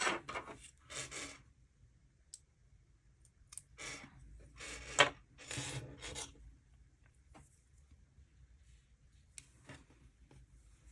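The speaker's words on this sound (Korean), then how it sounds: "실을 잘라 주겠습니다." Scissors cutting knitting yarn after finishing a zigzag rib scarf, a few quiet snips and rasping rubs spaced apart in an otherwise hushed room.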